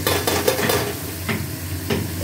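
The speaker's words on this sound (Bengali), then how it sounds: "এখন ভালো করে কষানো, খুব ভালো করে কষানো হচ্ছে।" Snails fried beforehand are stirred into a sautéing curry in a pan, giving a steady sizzle with repeated scraping strokes of a spoon at a close, even level throughout.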